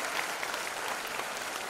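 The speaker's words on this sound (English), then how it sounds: "let's give her a thunderous round of applause for her performance" An audience gives a performer at a children's math and robotics event a round of applause: dense, steady clapping throughout, moderately distant and without talk.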